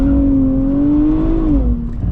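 A 2024 Nissan Z NISMO sports car driving on the road, its engine holding a steady drone that rises slightly, then dips as the throttle eases, close and fairly loud with no voices.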